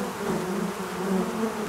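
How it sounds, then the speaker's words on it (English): A bee buzzing close by, a steady low droning hum with slight wavering in pitch throughout, heard alone. "That's right, a bee."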